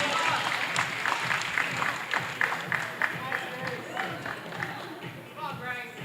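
Crowd at an indoor bouldering competition claps and cheers in a dense, moderately loud burst that gradually thins, with a voice talking over it.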